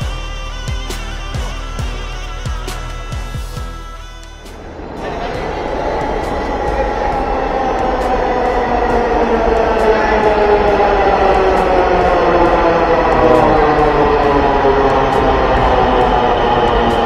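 A metro train pulls into an elevated station platform, its rising rumble and whine swelling loudly after a brief lull and holding steady as it rolls in.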